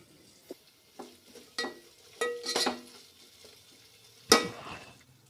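Ginger garlic paste frying in a pan for mutton biryani, a quiet sizzle broken by several scraping stirs and a sharp clatter near the end, with no talk.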